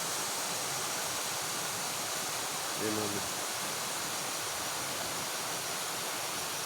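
Water flowing steadily in a cool, clean mountain-fed stream where people bathe, a broad continuous wash filling the whole clip, with someone briefly talking over it.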